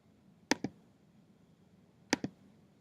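Two quick pairs of sharp computer mouse clicks, well spaced and close up, made while working in Pixlr Editor; no one speaks.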